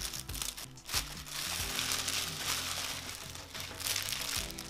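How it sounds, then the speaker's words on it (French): Scissors cut through parcel packaging with crinkling, crunching plastic and paper sounds, close and continuous with a few sharper snips. "Oh, il coupe pas super ces ciseaux."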